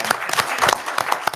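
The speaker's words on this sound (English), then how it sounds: "one that deserves a round of applause" Dense applause from a school board meeting audience, many hands clapping quickly and evenly in a brief burst, loud and close with no voices over it.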